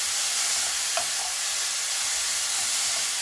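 Cauliflower rice from a packet stir-frying with prawns in a hot pan, giving a steady, loud, dense sizzle throughout with a faint clink of a utensil near the start.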